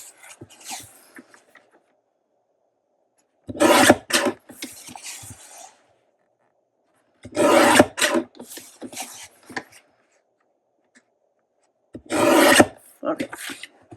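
Book pages held together are trimmed for a tag pocket, three separate bursts of rough scraping cuts, close and fairly loud, with quiet gaps between them.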